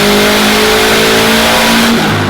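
A Subaru WRX with an STI engine swap roars at high revs on a dyno during an ethanol pull, a loud sustained engine note close by that eases slightly near the end.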